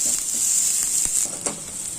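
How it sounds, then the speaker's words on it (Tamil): Onions for pasta sauce sizzle steadily in a hot pan, a bright continuous hiss with a few faint clicks and taps from stirring, no speech. "நல்லா வதக்கிக்கலாம்."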